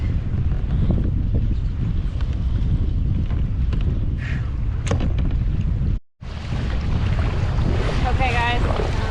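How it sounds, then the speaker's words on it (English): Strong, steady wind roars and buffets across the microphone on a bass fishing boat on Sandusky Bay, loud and continuous with low rumble throughout and one brief dropout. "wind was brutal, big time brutal"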